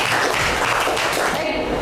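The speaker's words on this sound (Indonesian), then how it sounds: "Oke, tepuk tangan." Classroom applause from a group of students, a dense continuous patter of hand claps filling the room at steady loudness with no gaps.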